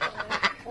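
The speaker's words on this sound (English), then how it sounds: "yeah, these are my birds." Pet geese honk close by in a quick series of three or four loud, nasal honks within under a second, with no voice over them.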